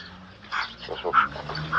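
A dog gives a few short, close barks and yips in a brief burst, mixed with some background noise.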